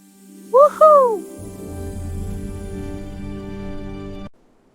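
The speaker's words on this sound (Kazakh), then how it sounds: "Мен үкімен." An owl hoots twice in quick succession, clear and close, followed by a sustained soft tonal hum that cuts off abruptly.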